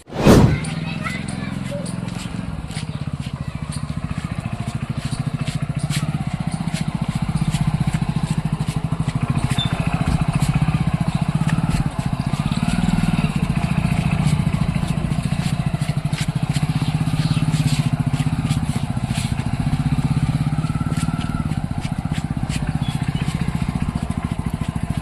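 A motorcycle engine runs at a steady, rumbling idle from start to finish, fairly close and continuous, with faint background voices and movement.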